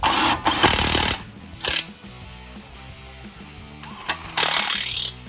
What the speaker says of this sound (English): get your impact and tighten them down